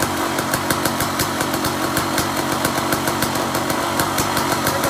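The engine of a 2021 Yamaha YZ250 two-stroke trike runs steadily and loudly nearby in a shop, a constant buzzing drone with a fast regular pulse throughout.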